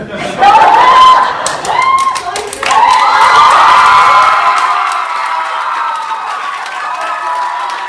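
A theater audience cheers and whoops for a performer on stage at a university event, loud crowd shouting and clapping with some laughter, rising in bursts then settling into steady, fainter applause.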